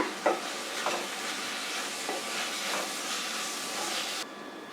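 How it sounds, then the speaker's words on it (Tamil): Tomatoes and spices for prawn thokku sauté in a pan, a steady soft sizzle with a few stirring scrapes, close and fairly quiet with no talking. "இதையும் சேர்த்து நல்லா வதக்கிக்கோங்க."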